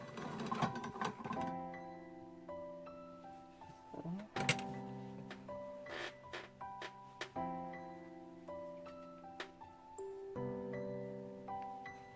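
A sewing machine stitches a gathered waist dress in short bursts of close, rhythmic mechanical whirring, separated by brief pauses.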